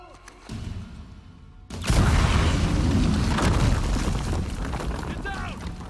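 A loud explosion in the Uncharted 4 video game erupts after a shouted warning, followed by a sustained roaring rumble and debris, with game character voices around it.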